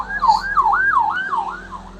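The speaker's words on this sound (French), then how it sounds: "Ambulance, police, je sais pas trop quoi." An ambulance or police siren wails close and loud, its pitch sweeping up and down in a rapid repeating yelp over a low traffic rumble.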